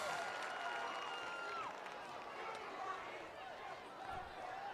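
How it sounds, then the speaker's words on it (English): A crowd at an Idaho 5A high school football semifinal between Highland and Eagle murmurs and claps faintly in the distance, a steady low wash of chatter and scattered applause. "the way the crowd was reacting"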